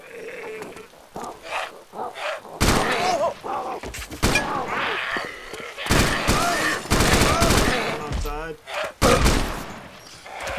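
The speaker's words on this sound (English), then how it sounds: "Right, I'm gonna shoot." Rifle gunshots in ARMA 2's DayZ Mod, several sharp loud cracks spread through the clip amid game noise, with a voice talking between some of the shots.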